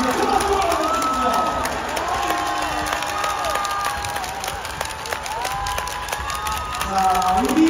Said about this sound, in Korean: 큰 박수로 받아주십시오